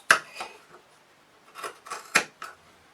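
Scissors cutting a small square through two layers of denim fabric for a tote bag's boxed corners: a handful of sharp, crisp snips spaced irregularly over a few seconds, close and fairly quiet.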